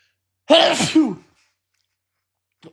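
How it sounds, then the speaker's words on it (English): A single loud, close sneeze with a sharp intake and burst, followed by silence and a faint sniff. "I'm going to sneeze"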